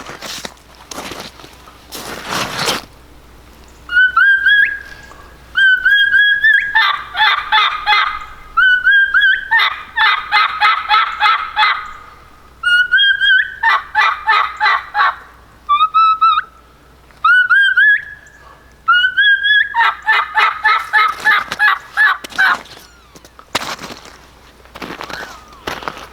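A turkey mouth call imitating a lost hen plays a run of sharp high whistled kiki notes followed by raspy yelps, repeated in several loud, close sequences.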